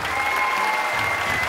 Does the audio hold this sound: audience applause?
yes